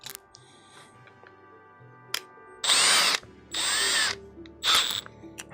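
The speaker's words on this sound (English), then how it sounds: "M3 drill bit, M3 clearance drill bit." A power drill fitted with an M3 clearance bit bores into a part for a 3D printer kit build, giving three close, loud whirring bursts of a second or less each, separated by short pauses.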